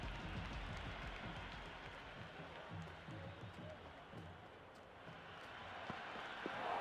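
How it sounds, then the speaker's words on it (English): Stadium crowd at an IPL cricket match between CSK and MI, a broad, steady roar of cheering and applause from far off, continuous throughout with commentary voices faintly underneath. "The crowd is electric right now."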